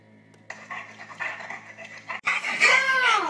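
A dog pants in quick, breathy, close-up puffs under a steady background tone, followed by a brighter, louder burst with a rising whine-like edge.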